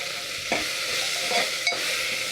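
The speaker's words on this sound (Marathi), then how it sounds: "पुन्हा छान परतून घेते वास छान सुटला आहे" Ground masala for khichdi sautéing in a pan after peanuts, a continuous close sizzle broken by a couple of scraping stirs of a spoon.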